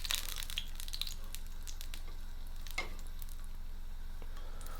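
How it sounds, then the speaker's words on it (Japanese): Garlic sizzles gently in olive oil warming slowly in a frying pan, a steady soft crackle with a few sharper pops, close and alone with no talk. "オリーブオイルをフライパンに入れてゆっくりと熱しながら、まずニンニクですねを入れて、ニンニクの香りをオイルに移していきます"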